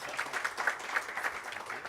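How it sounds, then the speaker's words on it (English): Light, scattered audience clapping at a public lecture, brief and moderately faint, with a loose uneven rhythm. "Another round of applause, please."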